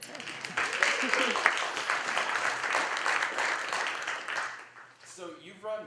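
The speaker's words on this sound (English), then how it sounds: "Clap for that answer." An audience at a Boulder startup interview event claps warmly for several seconds. The applause fades, and a speaking voice follows.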